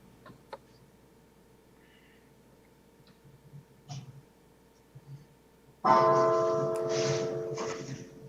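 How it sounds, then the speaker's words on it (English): A gong rings out during an online city finance and audit committee meeting, a sudden loud sustained metallic tone entering after a quiet stretch and lingering to the end. "I did hear a gong."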